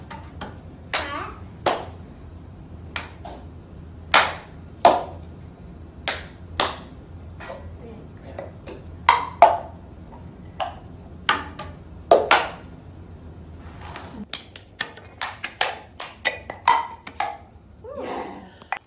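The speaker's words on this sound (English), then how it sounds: "I'm going to teach Riri how to do the cup song" A child performs the cup song, with a steady rhythmic pattern of sharp hand claps and hard plastic cup hits on a table, close and loud, mostly without talk and with a brief voice near the end.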